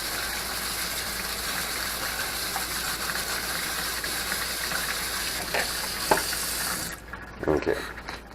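Running tap water rinsing clad coins and zinc pennies, a steady close gush filling the clip, with a brief clatter and splash as the flow stops near the end.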